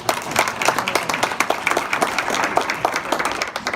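Audience applause at a mayoral forum in Madison, Wisconsin, with a short burst of dense, close clapping heard on its own.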